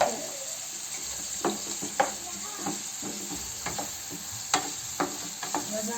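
Onions frying in a pan are stirred, with a soft steady sizzle beneath irregular scraping clicks and knocks of the utensil against the pan.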